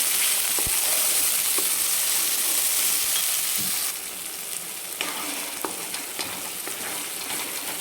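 Chicken masala fries slowly in oil on low heat, a continuous close sizzle with occasional light clicks and stirs, dropping somewhat quieter partway through, with no talking.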